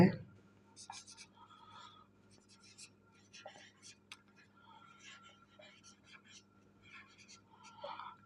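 Pen scratching on paper while working out a Class Nine-Ten maths problem, short scribbled strokes in bursts over a faint steady hum, close and quiet, with a voice talking softly in between.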